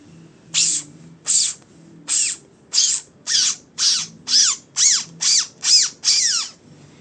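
A voice imitates a robotic motor with eleven short, bright, whirring bursts in a steady rhythm, close and fairly loud, each ending in a falling sweep.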